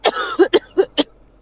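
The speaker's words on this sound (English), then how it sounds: "I feel like a normal cough." A person coughs after inhaling a fly, giving a rough throat-clearing start and then four short, close, forceful coughs in quick succession.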